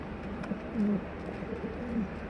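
A male pigeon coos in courtship, kept indoors inside a cabinet: low, soft throaty coos rise twice over a steady background hum, close by with no talking.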